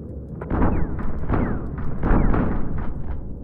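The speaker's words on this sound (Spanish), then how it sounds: "Es imposible no comerte tiros de estos" Gunfire rings out in the horror video game Empty Shell, several sharp shots and heavy thuds spread across a few seconds, loud and punchy against a rumbling background.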